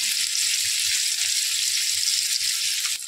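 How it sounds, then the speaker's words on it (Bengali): Paneer fries in a wok with a loud, bright, continuous sizzle close by, with a faint repeated bubbling underneath and no speech. "আর পনিরটাকে একদম লাইট গোল্ডেন ফ্রাই করব"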